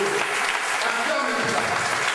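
A church congregation applauds during a French-language sermon, a steady wash of clapping mixed with crowd voices and a preacher's voice.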